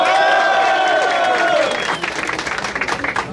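Crowd at a DJ battle applauding for a DJ, with loud whistles and shouts over the start, then a rippling burst of clapping and cheering filling the space.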